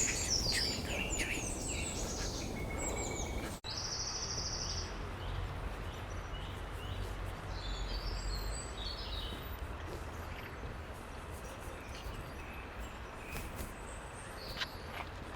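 A song thrush sings rich, varied phrases at a distance in early-morning woodland. The song sits over a steady background of other birds and faint rustling.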